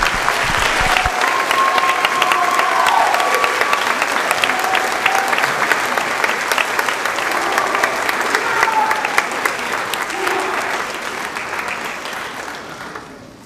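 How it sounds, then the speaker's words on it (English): Sustained applause from the audience at a high school instrumental music spring concert honoring the seniors, thick steady clapping with a few faint voices inside it, tapering off slightly at the end. "One last round of applause for them."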